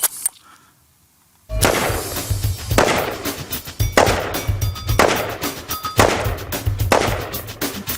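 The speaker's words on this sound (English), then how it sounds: "I'll shoot a few rounds semi-auto, and then I'll shoot a few rounds full auto." Semi-automatic rifle fed from a 75-round drum magazine, firing loud, close, evenly spaced single shots after a moment of quiet, each crack ringing out into the next.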